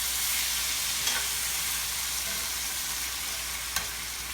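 Tomatoes fresh from the garden fry in a hot pan over medium heat with chicken, a steady, even sizzle running throughout with a couple of faint clicks, no voices.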